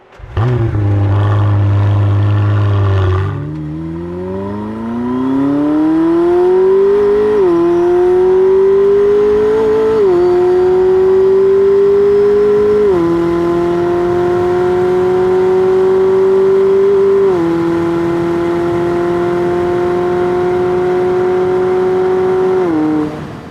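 McLaren W1 hybrid supercar engine heard alone: a low idle rumble, then a sustained rising drone that climbs through several gear-change steps, each marked by a brief dip before the tone settles higher.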